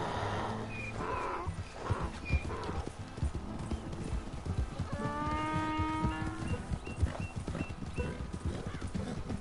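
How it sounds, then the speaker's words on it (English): A donkey painted to look like a zebra in the Red Dead Redemption 2 video game brays loudly in a rising, wheezing call midway, amid hoof clip-clops and other farm animal noises. "Painted a donkey to look like a zebra."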